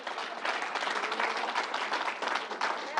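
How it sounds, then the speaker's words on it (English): An audience at Governor Cuomo's announcement event in Syracuse, New York gives a reverend a round of applause: dense, steady clapping from many hands, fairly close and continuous for about three seconds, with no talk over it. "Let's give the Reverend another round of applause."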